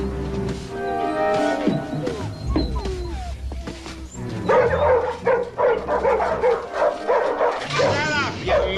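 Several dogs in a dog pound bark, yip and whimper in an uneven, overlapping chorus at close range, with voices heard among them.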